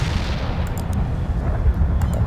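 An artillery barrage in World in Conflict pounds as a dense, continuous rumble of low booms with a few sharper cracks scattered through, loud and unbroken.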